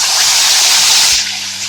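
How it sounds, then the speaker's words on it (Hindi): A whole steamed Lahori chicken chargha is lowered into hot oil, setting off a loud, close, steady hiss and sizzle that eases off slightly near the end. "चरखा फ्राई करने रख देंगे।"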